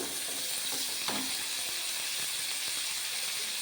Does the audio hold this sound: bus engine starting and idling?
no